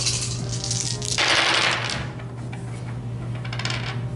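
Dice rolling in a Horus Heresy tabletop wargame: a loud, close clattering burst of many dice tumbling onto a table, then scattered lighter rattles as they settle, with no talking.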